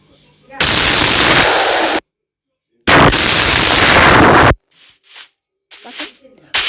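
Two long bursts of rapid machine gun fire in modded Minecraft, loud and close, separated by a short silence and followed by a few quieter pops.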